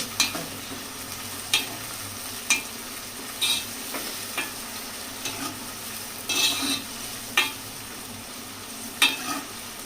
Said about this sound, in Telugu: రెడ్డిష్ వచ్చేటట్టుగా మనం డీప్ ఫ్రై చేసుకోవాలి.